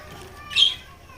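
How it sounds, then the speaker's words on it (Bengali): One short, bright squawk from a talking parrot rises briefly out of a quiet background. "এক পিস কথা বলা টিয়া পাখি আছে এটাও সেল হবে"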